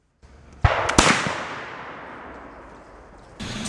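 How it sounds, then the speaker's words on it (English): A longhunter's rifle fires at a miniature marshmallow set on a stick outdoors, a loud sharp crack followed by a long rolling echo that slowly fades, then a second burst of noise near the end. "I've just shot a miniature marshmallow off a stick, and now I'm going to shoot the stick in half"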